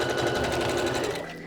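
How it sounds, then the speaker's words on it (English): Close, continuous whir of a sewing machine running a line of stitching over fold-over elastic on a bra or pants edge, steady for about a second before trailing off. "we're going to flip it over and do another line of stitching"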